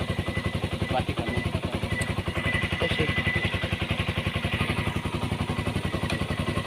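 An older Honda CB150R motorcycle idles with one battery cable disconnected, its single engine thumping in a fast, even rhythm close to the microphone, with light mechanical clatter and no speech.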